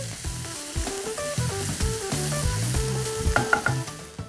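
Tomatoes and recheado masala fry in a pan as they are stirred, giving a close, continuous sizzle with soft scraping strokes under steady background tones.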